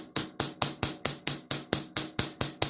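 A texture hammer strikes a metal flower pendant in a steady series of about eleven sharp, ringing blows, close and evenly spaced, each with a bright metallic ring that quickly decays.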